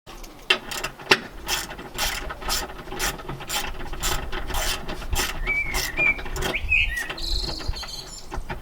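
Rapid ratcheting clicks from a 10mm socket wrench working in the engine bay of a 2001 BMW E39 525i/530i, a steady near run of clicks with brief pauses, no voices.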